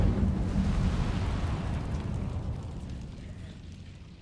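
A Hogwarts Legacy Incendio fire spell bursts out with a loud, rumbling whoosh that swells at once and then slowly fades away, with no talk over it.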